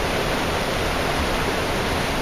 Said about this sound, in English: It's rushing pretty fast through here.